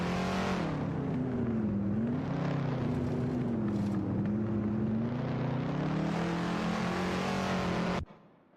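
Race car engines in a racing video game, a loud sustained engine whine shifting pitch through gear changes and corners for about eight seconds before cutting off abruptly.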